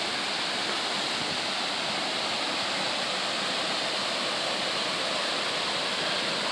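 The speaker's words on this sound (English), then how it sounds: "Baskins Creek Falls." Baskins Creek Falls in the Great Smoky Mountains roars as a steady, dense wash of falling water, loud and close, unbroken with no voices.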